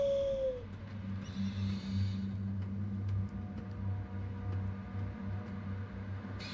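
A single owl call in Far Cry Primal, a short clear hoot at the start over a steady low ambient drone of wind and game atmosphere.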